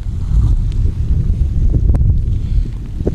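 A fishing boat on the Meghna river in rain, heard as a close, steady low rumble of engine and wind buffeting the microphone, with water noise and no voices.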